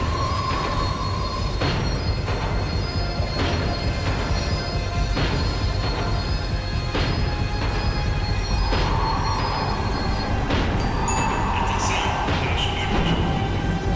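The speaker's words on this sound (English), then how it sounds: "The tram was slowing down, and I'd only just gotten on board." Tram in the video game Max Payne 3 slowing down, with continuous rail rumble, rhythmic wheel clunks roughly every second and brief metallic squeals, accompanied by faint background voices.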